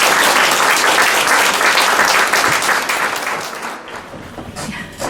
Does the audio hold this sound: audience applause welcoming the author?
yes